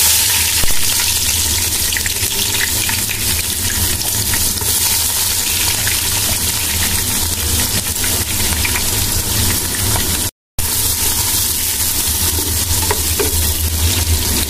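Whole fenugreek and cumin seeds crackle and sizzle in hot oil for beef khichuri, a dense, steady frying hiss with faint stirring that runs loud and close throughout, broken only by a split-second dropout near the end.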